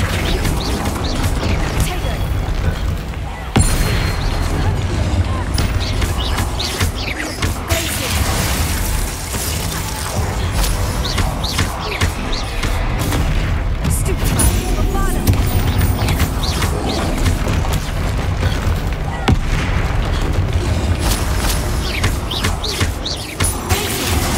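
Explosive spell blasts boom repeatedly during a troll fight in the video game Hogwarts Legacy on hard mode, dense and loud amid a constant wash of combat effects, music and creature noise.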